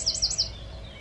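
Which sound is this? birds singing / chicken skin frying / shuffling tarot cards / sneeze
birds singing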